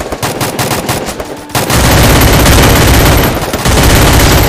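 Gunfire in the video game Free Fire: sustained loud automatic bursts that start abruptly and run almost continuously, with a brief dip before resuming.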